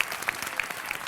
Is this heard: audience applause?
yes